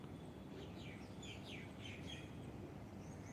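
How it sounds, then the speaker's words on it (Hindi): Small birds chirp and sing in several quick rising calls over a steady outdoor background hiss, faint and somewhat distant, during a morning outdoor yoga session. "पक्षियों की मधुर आवाज़"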